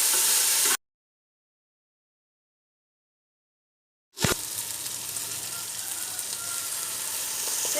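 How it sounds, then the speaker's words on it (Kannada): Garlic fish masala with tomato sizzles steadily in a pan, a close, dense frying hiss that cuts out into silence for about three seconds, then returns with a sharp clatter and keeps sizzling evenly. "ಫ್ರೈ ಆಗಿ"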